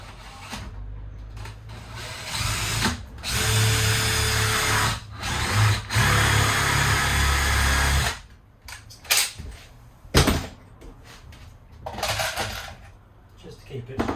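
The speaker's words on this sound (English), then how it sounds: "What I'll also do is countersink, just one screw in the top of this." A power drill countersinks and drives a screw into timber for a bunk bed in a vintage 1978 Avondale Heron caravan. There is a loud, close whirring burst of several seconds, then short tool bursts and clatter, with light talk in the gaps.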